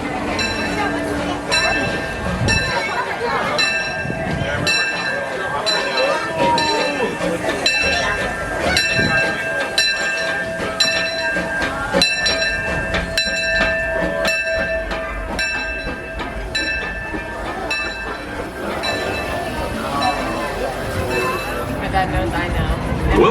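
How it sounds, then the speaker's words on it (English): The Disneyland Railroad train rolls along with rhythmic wheel clatter and ringing bell tones while a voice announcement plays over the loud ride noise. "Welcome aboard the Disneyland Railroad."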